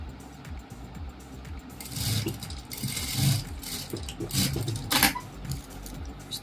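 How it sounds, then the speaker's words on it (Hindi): A sewing machine stitches fabric for a latkan tassel, its motor running in a steady mechanical whir with rhythmic needle chatter that swells louder partway through, close and continuous without talk. "ऐसे करके यहाँ पर सिलाई मार लेंगे एक।"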